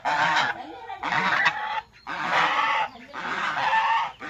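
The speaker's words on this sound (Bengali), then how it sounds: "দেখো হাঁসগুলো এসে পড়ছে।" Ducks calling in loud, close bursts of nasal honking quacks, four repeated clusters with brief pauses between, overlapping calls from several birds.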